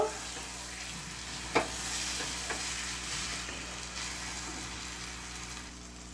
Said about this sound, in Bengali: দেখেন সুন্দর করে ভেজে নিয়েছি।